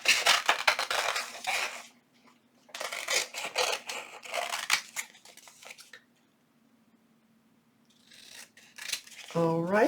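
Scissors snip paper while trimming around a handmade junk journal tag, in two close bursts of rapid crisp cuts separated by quiet pauses, ending with a short rising voice.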